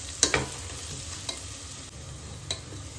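Chili powder sautéing in hot oil for chicken biryani, a continuous close sizzle with a spoon stirring and scraping the pan, a couple of sharp clinks near the start and another later, no talking.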